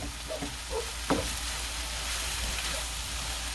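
Hamburger meat fries over high heat for lumpia filling, a steady close sizzle with a few clinks and stirring scrapes near the start.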